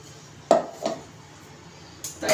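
Semolina paste is transferred from a mixer jar into a bowl, producing a few light clinks and knocks of kitchenware at close range with soft background hiss.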